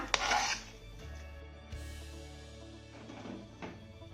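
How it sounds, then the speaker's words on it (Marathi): A pan is set onto a gas stove while making a roasted ginger and jaggery home remedy, giving a sharp metallic clunk at the start and a smaller knock later, with soft rubbing and scraping in between and no talking. "आपण आता हा पॅन गॅसवर ठेवूया"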